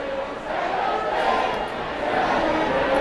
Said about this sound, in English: The crowd being a little cheeky there.